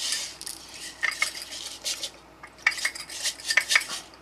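Artificial snow being stirred inside a glass jar, a series of light clinks and scraping taps against the glass in uneven bursts, close and fairly quiet with no voices.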